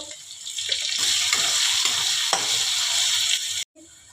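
Potatoes frying in a pan for a coconut and banana-flower curry, a steady loud sizzle with occasional stirring scrapes that cuts off abruptly near the end, then resumes more faintly.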